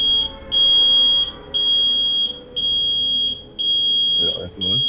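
A smoke alarm beeps loudly in long repeating pulses, with a brief human voice near the end.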